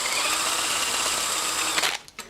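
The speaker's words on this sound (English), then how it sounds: "on the new model you can use the drill." Cordless drill with an 8mm socket driving a rescue evacuation device, running as a steady, loud whir for about two seconds before cutting out, followed by a brief faint knock.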